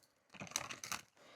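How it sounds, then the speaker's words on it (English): Tarot or oracle cards are shuffled by hand in a quiet room, producing a short, soft burst of riffling and tapping clicks in two quick bunches, with no talking. "Let's give this a good shuffle."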